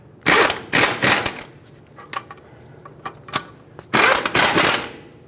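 Ratcheting wrench tightening lug bolts on the front wheel hub of a 2008-2010 Ford F-250 Super Duty, two bursts of rapid clicking separated by a few short isolated clicks, close and loud.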